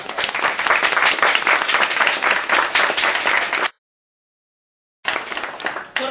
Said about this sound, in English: So can I ask for a round of applause as we hand over to Senator David Norris.